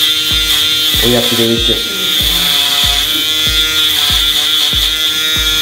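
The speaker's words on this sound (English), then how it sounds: "I'm gonna go down with my full shavers first" Electric foil shavers buzz steadily against a client's head during a skin fade, a constant loud high-pitched hum with rhythmic pulsing strokes, while a barber talks over it.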